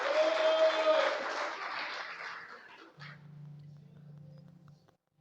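A church congregation claps, a loud burst of dense applause that fades away over a couple of seconds, followed by a low steady hum and near silence.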